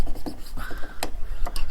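Sanding or rubbing down the A-pillar trims of a Fiat 500 during a restoration, a soft close rasping scrape in short uneven strokes with a few brighter scratchy bursts, no talk.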